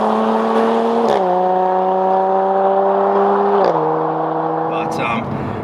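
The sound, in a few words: Jaguar F-Type S Coupe supercharged V6 engine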